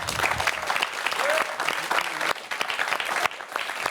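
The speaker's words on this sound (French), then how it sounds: "190 points, c'est pour Teatro Nostral, et ça s'applaudit." A game show studio audience breaks into sustained applause after a team's score is announced, dense clapping that stays loud and steady with a few dips across the few seconds.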